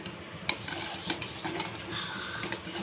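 A spoon stirs a thickening fruit salad mixture in a pan, with a soft continuous scraping swirl and occasional light clinks against the metal, close up and steady, with no voices.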